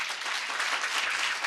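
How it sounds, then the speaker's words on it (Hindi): A church congregation at a worship service clapping loudly together, a dense, continuous wash of applause with no break across the short span. "पिता पुत्र पवित्र आत्मा के लिए जोर से ताली बजाएंगे"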